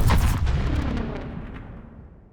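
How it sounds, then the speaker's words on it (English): Layered sci-fi explosion sweetener: a heavy booming blast with a sharp crackling attack, then a long rumbling tail that slowly fades over about two seconds, alone. "you end up with some really nice sweeteners that will fit sci-fi explosions pretty well"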